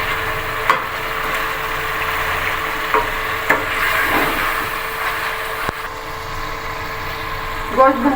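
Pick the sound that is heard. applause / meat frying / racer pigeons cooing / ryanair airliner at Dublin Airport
meat frying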